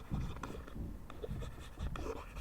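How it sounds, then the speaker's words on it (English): Chalk or marker scrubbed off a classroom board in a physics lesson, a run of short rough swipes and scratches of varying loudness, close by, with no talk. "So let me erase"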